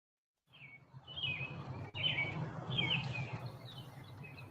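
Several bright little bird chirps repeat in quick succession, played as a sound effect at a theme park festival, fairly loud and alone with no talking.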